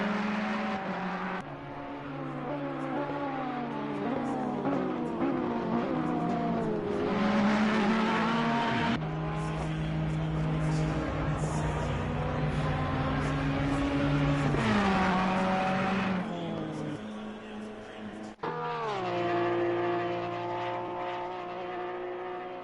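GT3 race cars roar around Mount Panorama in a racing game, engines wailing up and down through gear changes with occasional tire squeal, loud and continuous from several cars close by.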